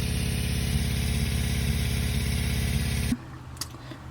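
A steady mechanical whirring hum from an idling van engine, loud and close, then cutting off abruptly near the end, leaving quiet background noise.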